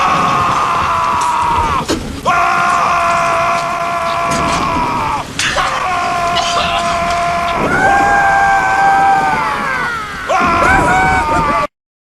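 Escaped prisoners in a film scene screaming, whooping and celebrating loudly, several voices yelling in long sustained bursts over a noisy background for about twelve seconds.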